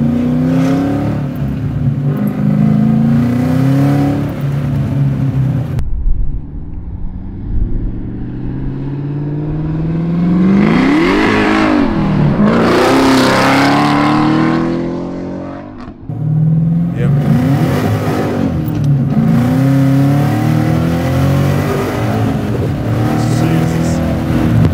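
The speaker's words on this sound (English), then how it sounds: "That is that LT4 friggin' motor, man." A 670 hp supercharged LT4 V8 in a Bertone Volvo revs hard and loud, with rising and falling engine sweeps, a gear-change break and a roaring pull under acceleration, heard from close range with voices briefly under it.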